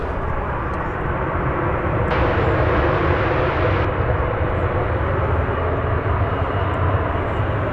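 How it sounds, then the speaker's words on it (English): An arriving passenger jet at DFW Airport, inbound from El Paso, gives a loud, continuous roar of aircraft engines that holds steady through the whole stretch. "That was flight 2029 arriving from El Paso in Texas."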